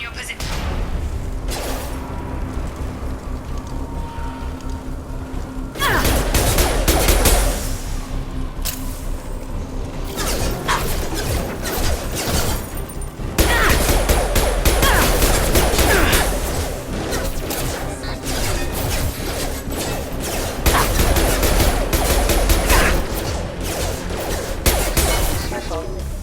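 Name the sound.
gunfire from security mechs in video game Mass Effect 2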